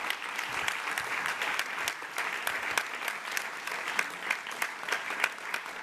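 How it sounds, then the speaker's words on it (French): Dense, steady audience applause fills an award ceremony for a women's engineering trophy event in Paris. Many hands clap at close range without pause, with no talk on top. "Je vous prie d'applaudir Camille"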